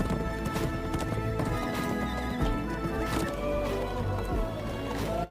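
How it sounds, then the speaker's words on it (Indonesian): Dozens of cavalry horses arrive in a film scene, with dense rapid hoofbeats clip-clopping close by and loud neighs and whinnies rising over the trampling. "Puluhan prajurit berkuda datang"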